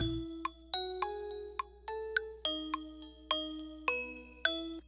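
A bright plucked bell-like synth plays a repeating melodic riff, about eight evenly spaced notes with ringing decays over a steady low bass note.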